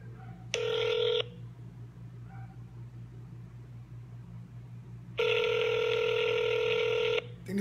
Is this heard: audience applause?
no